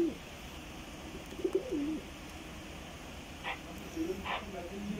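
Pigeons, kept by a pigeon fancier, give a few soft, faint coos, mostly in the first half, against a quiet background.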